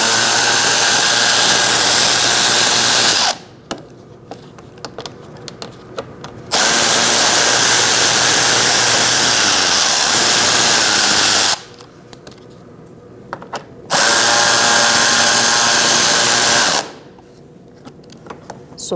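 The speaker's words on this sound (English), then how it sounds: "Now we're going to remove 3 bolts underneath using a 7mm socket." Power tool fitted with a 7mm socket spinning out bumper bolts under a 2016-2019 Chevrolet Cruze, three loud sustained whirring bursts of a few seconds each, separated by short quiet gaps with faint handling noises.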